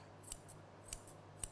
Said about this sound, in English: 10-inch scissors.